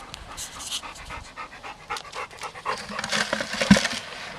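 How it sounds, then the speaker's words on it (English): A dog pants close by in quick, rhythmic breaths beside a sluice box bucket outdoors, growing slightly louder toward the end with a faint whimper. "don't mind my dog breathing on you here"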